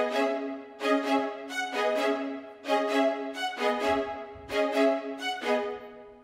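High staccato strings play a simple repeating melody pattern in FL Studio: short, crisp bowed notes in quick clusters, separated by brief gaps, loud and alone with no talk.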